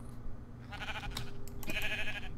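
A sheep bleats a few times in the Minecraft Pixelmon mod, wavering and nasal, over a steady low hum with bright electronic tones in the background.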